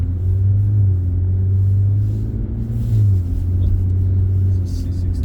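A Mercedes C63 engine idles with a deep, steady rumble close by, a continuous low throb that swells slightly around the middle before settling back to an even burble.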